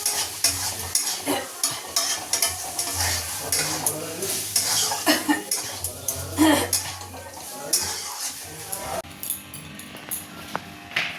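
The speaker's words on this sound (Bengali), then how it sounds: "চা করছি, সাথে তরকারি টরকারিগুলো গরম করে নিচ্ছি।" Curries being reheated in a pot on a home kitchen stove, with a spoon stirring and scraping in an irregular rhythm over a steady frying sizzle, close up, with occasional clinks and a voice speaking over the cooking.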